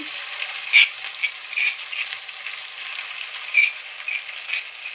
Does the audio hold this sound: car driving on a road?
no